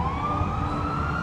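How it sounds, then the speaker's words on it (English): An ambulance siren wails as it rushes an unconscious boxer to hospital, a steady rising tone sounding moderately loud over low traffic rumble, with no voices. "Unconscious, Colon was rushed by ambulance to the hospital"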